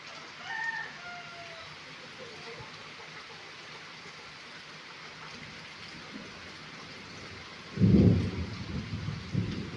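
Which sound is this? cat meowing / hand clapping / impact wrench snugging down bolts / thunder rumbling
thunder rumbling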